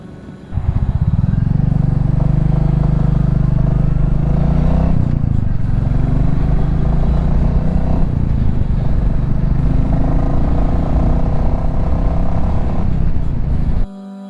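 A motorcycle rides at night, its engine a loud, steady drone that holds nearly unbroken for the whole stretch, with wind rush and a brief shift in pitch partway through.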